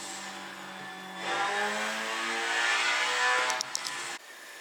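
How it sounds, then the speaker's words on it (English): Car engine drifting in the video game Assetto Corsa, a sustained droning rev that rises in pitch and intensity, holds, then drops away abruptly near the end. "Now I will try to do a proper lap drifting attack on this map"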